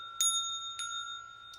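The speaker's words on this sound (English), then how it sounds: "So I'm going to ring this because this is a root chakra bell" A root chakra bell is struck three times, about 0.6 seconds apart, each strike giving a bright, clear ring that hangs and overlaps with the next, with the third strike fainter.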